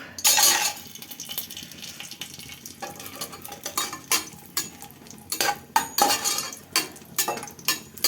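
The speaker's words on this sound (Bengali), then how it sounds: "কিশমিশটা একটু ভাজা হোক" Raisins frying in hot ghee in a pan, with a soft sizzle beneath sharp, irregular clinks and scrapes of a spoon stirring against metal, heard up close with no talking.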